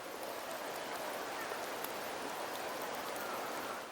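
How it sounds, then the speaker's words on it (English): Steady rainfall in Wuthering Waves, a soft, even hiss of drops falling without pause, faint and continuous throughout. "The rains in Septimont never seem eager to leave this season."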